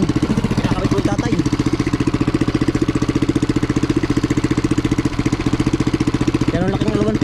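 A hand tractor's engine runs steadily in a rice paddy, fitted with a float so the machine does not sink, giving a loud, even rapid chugging throughout with people talking over it.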